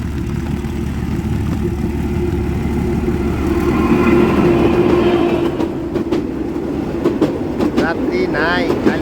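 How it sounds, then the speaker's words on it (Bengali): A Ramsagar passenger train approaches on rails on a rainy day, a loud, close, building rumble with rhythmic wheel clatter and sharp metallic squeals toward the end. "এই যে রামসাগর ট্রেনটা কিন্তু আসতেছে।"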